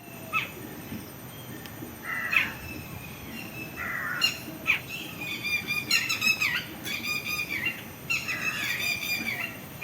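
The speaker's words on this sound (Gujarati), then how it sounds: "હમણાં મોરલો બોલ્યો તો વિડીયો ચાલુ કર્યો પહેલાં" A peacock calls in a monsoon forest, giving a series of harsh, squawking cries that repeat at irregular intervals over a soft background hum, with no talking.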